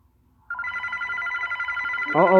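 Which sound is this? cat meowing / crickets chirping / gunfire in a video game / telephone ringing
telephone ringing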